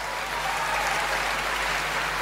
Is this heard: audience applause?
yes